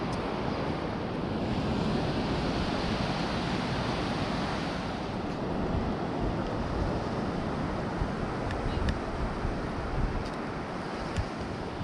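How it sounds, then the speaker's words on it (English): Pacific Ocean surf washing onto a New Zealand beach near Dunedin, a steady loud roar of breaking waves with heavy wind buffeting the microphone throughout, no voices. "What's it like walking on your first ever Pacific beach, darling?"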